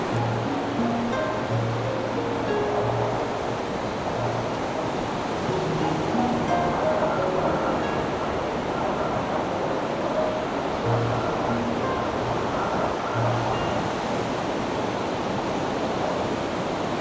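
Wild ocean surf pounds the rocky shore at Amphitrite Point on Vancouver Island during a winter storm, a loud, unbroken roar of crashing water with no pauses.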